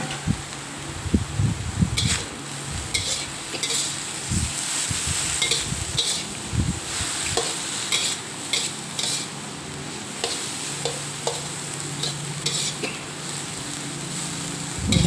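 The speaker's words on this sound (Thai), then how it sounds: "เราก็ใส่มะระที่เราลวกน้ำไว้นะคะ ใส่ลงไปผัดให้เข้ากัน" Blanched bitter melon is stir-fried with cooked egg in a pan. There is a steady sizzle, and a spatula scrapes and clanks against the pan in irregular strokes, close and fairly loud.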